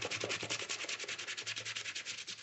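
Brush scrubbing the heavily soiled tongue of a white Nike Air Force 1 sneaker, a fast, steady back-and-forth rasping rhythm, close and continuous with no speech.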